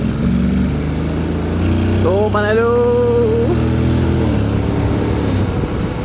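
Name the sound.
Scooter with DCT transmission riding on a wet road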